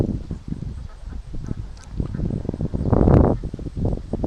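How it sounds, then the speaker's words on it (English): Free-range Muscovy ducks and other fowl call near a creek outdoors, a run of honking, quacking bursts at moderate distance with no talk over them. "I can hear the ducks."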